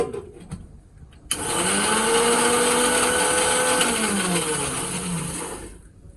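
An electric blender whirs loudly after a sudden start, mixing a protein shake for several seconds with a steady high motor whine and shifting pitch, then cuts off near the end; no talking.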